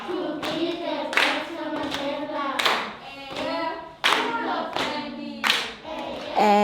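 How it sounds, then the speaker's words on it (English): A few people clap their hands together in a loose, uneven rhythm, sharp bright claps landing in small bursts, with voices and other sounds running between them. "Clap, clap, clap, clap."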